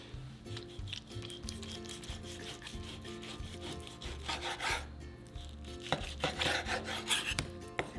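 A knife saws through home-cured, nitrite-free corned beef on a cutting board, giving close, steady rubbing and scraping strokes with a few sharper cuts near the end and no talking.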